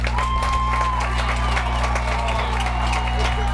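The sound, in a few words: soccer crowd cheering and clapping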